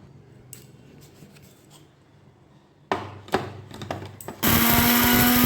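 Dried ginger is ground to powder in a kitchen blender: scattered clicks and knocks of handling first, then the motor bursts into a loud, steady grinding whine for the final second.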